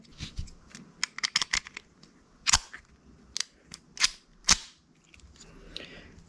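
A Wilkinson Arms K-25 vest pocket pistol is worked by hand, cycling and extracting a snap cap, with a series of sharp metallic clicks and clacks close up, bunched in quick bursts and spaced over several seconds.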